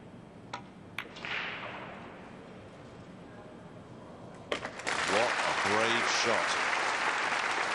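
Clapping breaks out from spectators at a pool match between Efren Reyes and Ortmann, starting after a few sharp cracks and then holding steady and fairly loud, with some voices mixed in.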